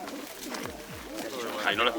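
A pigeon at a regional Valencian hunting-dog competition sounds as a series of low, descending coos. Someone talks over it throughout.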